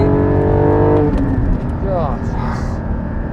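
A Porsche Cayman GT4 sports car with a manual gearbox revs hard through an acceleration pull. A rising engine note is followed by a brief drop in pitch at the shift, then the note climbs again, loud and close, under road noise.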